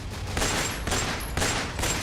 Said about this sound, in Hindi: गोलियों की तड़तड़ाहट से ये पूरा इलाका गूंज उठता है।